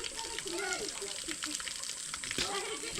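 A waterfall near Brisbane rushes in a continuous hiss of falling water, fairly faint, while people talk over it.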